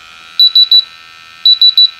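A Sensit HXG-2D gas leak detector, exposed to methane, sounds two loud, close bursts of three rapid high-pitched alarm beeps separated by a short pause.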